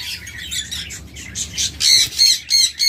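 A breeding pair of pet birds squawks and chirps in short, loud, repeated bursts close by, with no talk.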